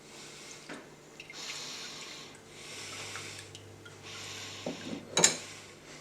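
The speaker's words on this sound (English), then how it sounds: "And we are going to add the Yule schnapps. We will do this through a fine mesh strainer." Yule schnapps poured through a fine mesh strainer while making white glögg with apricots gives a faint, close trickle with scattered drips, then a slightly louder splash near the end, alone without speech.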